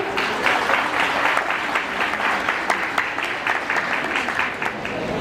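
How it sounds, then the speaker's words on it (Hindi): Audience at a ceremony applauding, dense steady clapping from many hands held at a constant level for the whole stretch, fairly close and with no voices over it. "तो चलिए, जोरदार तालियां।"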